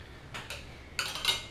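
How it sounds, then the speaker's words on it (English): Glass knocks against glass at a dining table in a few quick, faint clinks, two small taps followed by a slightly louder pair. "we have glass on glass."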